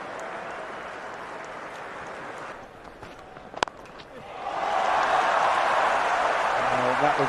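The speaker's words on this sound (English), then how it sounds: "That will get the biggest cheer of the morning." A stadium crowd at a World Test Championship final between South Africa and Australia roars after a Pat Cummins wicket. The murmur swells into a sustained loud cheer partway through, with commentators talking over it.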